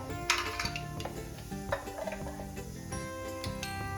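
Cumin and mustard seeds crackle in about seven or eight spoons of hot oil for sprouted moth bean curry, a steady sizzle broken by sharp pops and stirring clinks of a spoon against the pan, close and with no talk.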